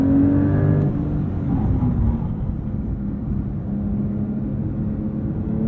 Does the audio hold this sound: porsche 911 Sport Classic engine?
yes